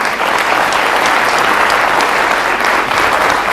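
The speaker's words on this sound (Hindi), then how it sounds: "ये जो तालियां हैं सर" A studio audience applauds during a televised education talk show, loud, continuous clapping from a crowd that holds at a steady level from start to finish.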